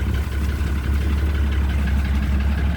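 Tractor engine running steadily nearby, a loud, even low rumble with a constant drone and no pauses.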